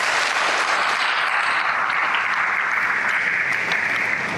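Steady, dense applause from a large audience at a leadership summit in Koforidua, Ghana, a loud and unbroken wash of many hands clapping together for the full stretch.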